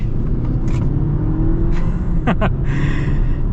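A new Dodge Hornet car accelerates, a steady loud engine drone with a brief rising whine of revving partway through, heard from inside the cabin.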